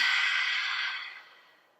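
A deep, slow exhale during a yoga flow, a single breathy breath that starts fairly loud and close, then gradually fades away over about two seconds.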